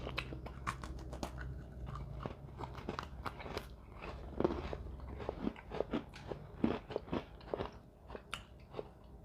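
Someone bites and chews a Toffee Crunch Oreo cookie up close, producing a steady run of crisp, crackly crunches that grow sharper and louder partway through, with no talking.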